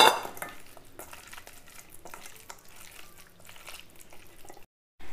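Fish pieces being stirred and mixed by hand with salt and masala in a bowl, giving soft wet squelching and occasional light clinks of a dish, close and fairly quiet, ending in a short silence.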